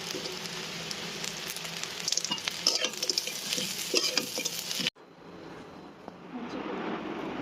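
Fish is stirred into a simmering curry, with a spoon scraping and sloshing over a constant sizzling hiss that suddenly cuts to a quieter, softer bubbling.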